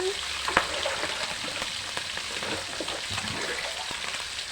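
Fried fish cooking in a pan for sarciado, a steady close crackling sizzle with a sharp pop near the start.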